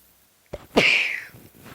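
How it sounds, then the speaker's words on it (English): A single sharp sneeze, close and loud, with a short intake before the burst and a brief trailing exhale. "I had to sneeze."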